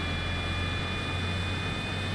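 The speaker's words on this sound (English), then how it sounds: "We're going to let the engine spool up here." An SR-71 Blackbird jet engine spooling up in Microsoft Flight Simulator, a steady, loud roar of broadband jet noise with a droning low hum and faint high whine, unbroken and heard alone.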